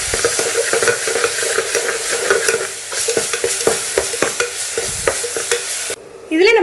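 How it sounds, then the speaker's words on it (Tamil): Ginger garlic paste sizzles loudly in hot oil while a spoon scrapes and stirs it steadily in a pan, preparing a lamb leg soup; the frying stops abruptly near the end. "இப்போ இஞ்சி பூண்டு விழுது சேர்த்துடலாம்."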